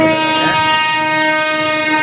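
A train rumbles past a railway gate with a loud, sustained horn blast, its tone steady and close over the rolling clatter of the wagons.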